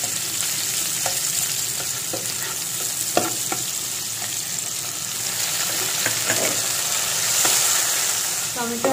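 Chopped onion and tomato fry in a pan for a Bengali rohu fish kalia, a steady loud sizzle running throughout with repeated scraping and clacking of a spoon stirring at irregular intervals.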